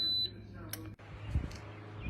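An electric pressure cooker set to manual for 20 minutes gives a short electronic beep at the start as it begins cooking beets, followed by quieter appliance hum and some faint background noise.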